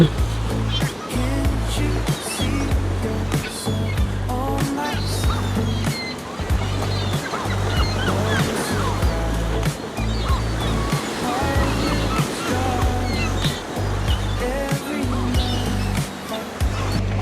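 Sea waves wash and churn steadily against a harbor edge at a port in Ireland, a continuous rushing surf with low rumble throughout and no pauses.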